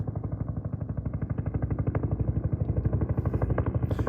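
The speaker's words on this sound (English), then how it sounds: "There's a helicopter going right above." Helicopter passing right overhead near Red Rocks in Denver, Colorado, its rotor making a fast, even thumping chop that grows louder and fuller over several seconds.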